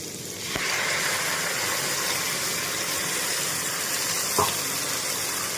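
Poppy seed and cashew paste frying in a pan with browned vegetables for paneer posto, giving a steady close hiss with a single soft clack near the end.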